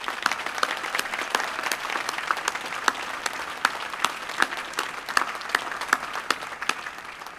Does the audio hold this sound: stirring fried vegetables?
no